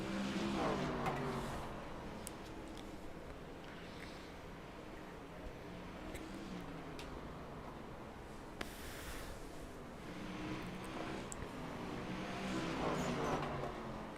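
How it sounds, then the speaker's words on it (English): ARX race cars lap the short oval at Slinger Speedway, a continuous roar of engines rising and falling as cars pass, somewhat distant and muffled, with occasional higher revving surges and the pack's drone never letting up. "these cars sound really, really good"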